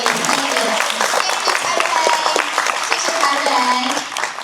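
Audience applause at a youth summit in Taipei, a dense steady clapping that fills the clip, with speech faintly mixed in.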